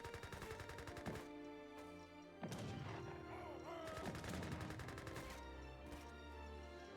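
Gatling guns rattle in rapid sustained bursts across an Age of Empires III battlefield, mixed with other battle clatter, fairly steady and mid-distance, with no talking over it.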